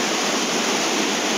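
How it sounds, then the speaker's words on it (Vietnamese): Steady, dense rushing water of the small Nậm Pồ mountain stream near its source in Vietnam, heard close and fairly loud, continuous without pauses and with no voices. "Đây là cái suối Nậm Pồ nha anh em nha."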